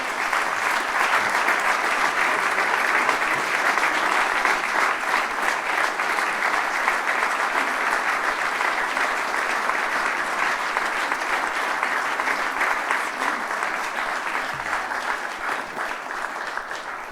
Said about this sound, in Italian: Vi chiedo un piccolo applauso perché siamo tutti emozionatissimi